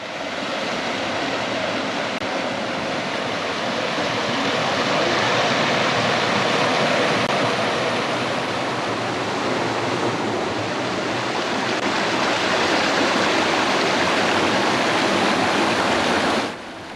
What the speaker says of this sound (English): we start to hear the sound of water rushing down a very small creek